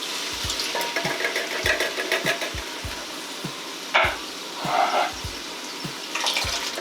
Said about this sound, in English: I'm going to put the crushed tomatoes in.